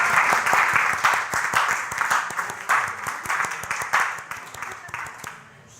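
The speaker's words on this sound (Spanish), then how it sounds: "Un aplauso para las mujeres en su día." A church congregation applauds in honor of the women at a Spanish-language service. The clapping is steady and dense and runs almost the whole time, tapering off near the end.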